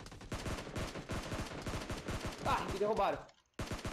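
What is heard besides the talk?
gunfire in the video game PUBG Mobile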